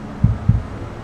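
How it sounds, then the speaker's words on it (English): Heartbeat sound effect inside a Mercedes AVTR concept car: two deep, soft thumps about a quarter second apart, close and clear over a low hum. "You hear that? Little heartbeat."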